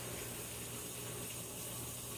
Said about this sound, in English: And now we're gonna scrub the apples.